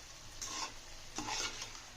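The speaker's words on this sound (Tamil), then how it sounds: "நல்லா கிளறி விட்டுக்கலாம்" A spoon scrapes and stirs through chicken curry in a pan, two scraping strokes over a faint steady sizzle.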